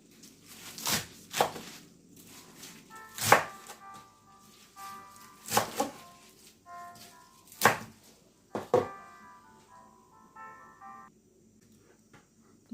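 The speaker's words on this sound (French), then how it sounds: "Maintenant on va couper les amarantes." Amaranth leaves being chopped with a knife, with sharp, separate cuts landing at an uneven pace, close and moderately loud, over faint background noise.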